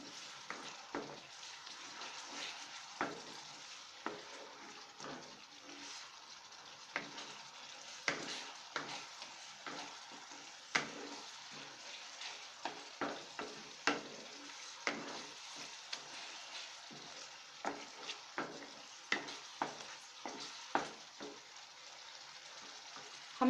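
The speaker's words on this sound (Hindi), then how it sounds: "हमें हमारी ग्रेवी को तब तक पकाना है जब तक कि ये आसपास तेल ना छोड़ दे" Gravy for aloo chole curry cooking in a pan over medium flame, with a quiet, steady frying hiss broken by frequent crisp pops and spatters in an uneven rhythm, close by and with no voices.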